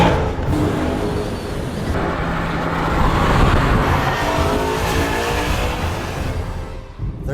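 A BMW E92 M3 launches hard and accelerates, its loud engine note climbing steadily for about seven seconds with a faint tire squeal, close and alone with no talk.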